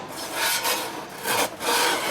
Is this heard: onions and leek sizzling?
no